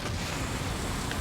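A rushing waterfall in a video game pours as steady, dense broadband noise, close and constant with no voices over it.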